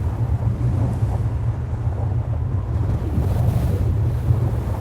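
Strong wind blows across open salt flats on the Caspian shallows during a salt storm, a steady, loud low roar and buffeting rush with no voices.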